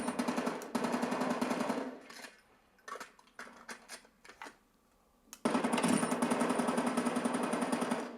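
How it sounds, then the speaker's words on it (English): Rapid repeated gunfire from a video game fired through a turbo-mapped back trigger paddle on a controller, loud dense bursts that open the clip, pause briefly amid scattered clicks, then resume in a long sustained stream. "So if I push it, it should shoot repeatedly"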